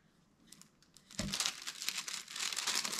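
A plastic shrink wrap bag crinkles as it is handled, rustling softly at first and then louder and denser, with one sharper crackle partway through. The crinkling is close and has no talk over it.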